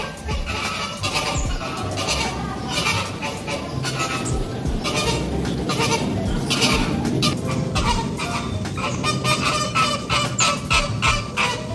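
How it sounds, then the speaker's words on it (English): Two flamingos calling during mating, a dense, continuous chorus of loud honking, goose-like squawks that stays steady and close throughout. "flamingos are really noisy over there."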